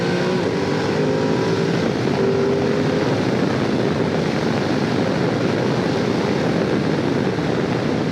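A 2022 Ducati Desert X motorcycle's engine roars steadily under hard acceleration, loud and continuous with heavy wind rush over the microphone throughout.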